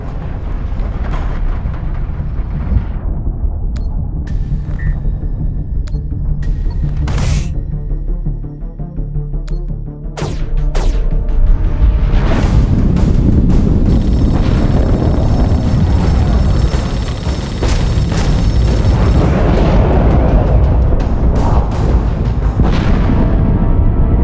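Torpedo explosions from a spaceship battle in The Expanse video game: deep booming blasts and sharp broadband bursts over a rumbling low drone, loud and close, with a heavy sustained roar building through the second half.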